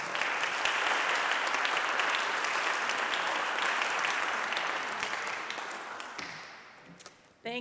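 An audience applauds as Ann Grove is brought up at a youth incarceration program event, a dense, steady wash of clapping that holds strong for about six seconds, then thins and fades before a brief final burst.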